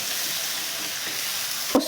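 Onion paste fries in a pan, a soft continuous sizzle close by, ending with a brief sharp clatter of a utensil.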